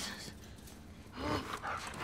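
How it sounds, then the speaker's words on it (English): Dogs in the video game The Last of Us Part II bark, yip and pant in a busy, rough mix, loud and continuous, with game ambience behind them. "Oh, jeez, dogs."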